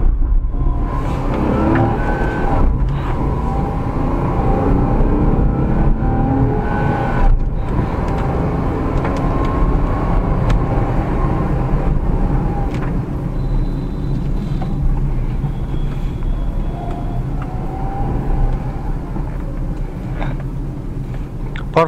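A Renault Kwid with its 800cc engine drives with the air conditioning off, giving a steady low engine and road rumble that holds throughout, with faint cabin noises and no talk.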